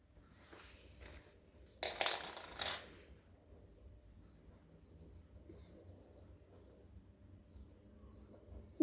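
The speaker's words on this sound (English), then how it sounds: "Then you get your colored pencils." Colored pencils scratching across paper while coloring in a handmade card, a few quick bursts of rapid scribbling close by, then quieter soft strokes with faint background rustle.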